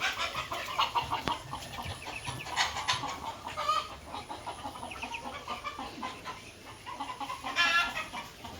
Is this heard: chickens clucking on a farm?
yes